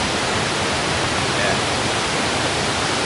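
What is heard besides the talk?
waterfall at a tourist site in North Korea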